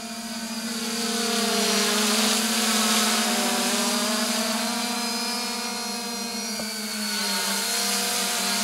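3DR IRIS+ quadcopter drone test flying nearby, a steady loud whining buzz of its propellers holding a constant pitch with slight wavering as it hovers.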